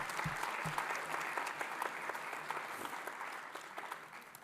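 An audience claps at an 83rd anniversary commemoration for the S.S. Tilawa in Leicester, a sustained round of applause heard from some distance, fairly soft and even, with a few sharper nearby claps near the start.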